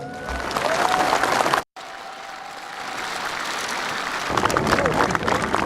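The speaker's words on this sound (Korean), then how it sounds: "특히 지난 5년간 수고하신 노무현 대통령께 여러분 박수로 한번 격려해 주시기 바랍니다." Crowd applause for President Roh Moo-hyun, broad sustained clapping that cuts out briefly and then resumes, swelling louder toward the end, with some voices mixed in.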